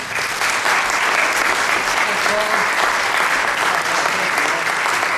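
A large audience gives a sustained, dense round of applause welcoming a ragtime pianist onstage at a Randall concert, steady and loud throughout.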